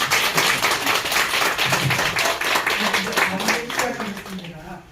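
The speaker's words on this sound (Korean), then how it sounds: "한번 박수 좀" A crowd applauds steadily at an evening art-history talk held at the historic Lee Sang-beom house, many hands clapping in a dense, even patter from start to finish.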